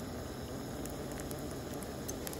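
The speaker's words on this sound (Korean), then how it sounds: "지금 꿔바로우 기름을 담그고 기다리고 있어요" Guobaorou, Chinese battered pork, soaking in oil that started out not yet hot, on a camping stove at a windy campsite. A steady dense fizzing and crackling runs throughout without pause, fairly close and even.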